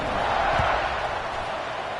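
Football stadium crowd in Miami roaring before kickoff, a broad sustained cheer from a large distant mass of people with one dull thud early on.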